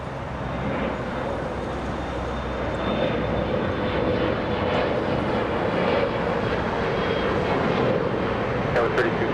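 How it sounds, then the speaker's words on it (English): An Embraer E175 jet takes off from LAX on the longest runway, a loud, sustained engine roar that holds steady and slightly swells across the whole stretch. "E175 using the longest runway here at LAX"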